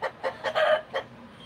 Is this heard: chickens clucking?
yes